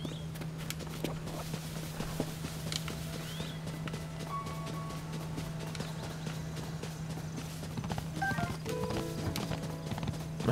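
Horse hooves clip-clop in Zelda: Tears of the Kingdom, a steady walking rhythm of light, close hoofbeats over a constant low hum, with a few faint game effects scattered through.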